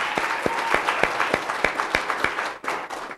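Applause for student essay contest winners at a community forum, a steady crowd clapping with sharp individual claps standing out, briefly dipping near the end.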